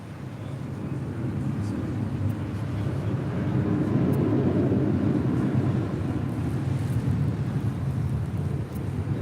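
SkyWest airliner taking off from runway 24 left at LAX, a broad, low roar that swells and holds steady as a distant rumble, with faint talk in the background.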